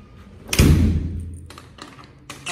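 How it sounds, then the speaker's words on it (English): A door shuts with a loud, close thud, followed by softer clicks and rattles as it is locked, with light room noise. "I'll lock the door."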